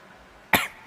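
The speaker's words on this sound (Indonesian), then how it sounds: "Batuk." A single sharp cough breaks a quiet room during an Islamic lecture, loud and brief against faint background hiss, then trails into quiet room tone.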